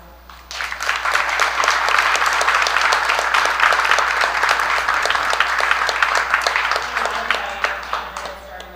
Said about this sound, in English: We can get a round of applause